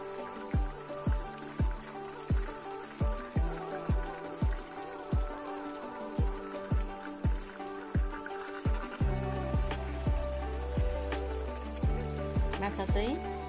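Pieces of Rahu fish sizzle in hot oil in a pan, with a loud regular tapping repeating about every half second over the steady fry, and a brief clatter near the end.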